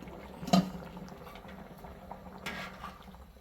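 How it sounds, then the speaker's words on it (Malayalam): Rice boils softly at a low simmer in water, with a few louder pops and gurgles, close by and fairly quiet. "ഇനി ഈ വെള്ളം നമുക്ക് വറ്റിച്ചെടുക്കണം"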